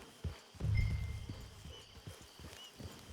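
Horse hooves clip-clop in the Red Dead Online video game, a series of close, uneven hoof thuds at walking pace with soft low rumbling beneath.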